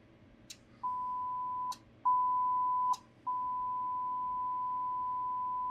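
A steady pure sine-wave calibration tone at 94 dB SPL sounds in several segments, briefly interrupted with small clicks, then holding continuously to the end.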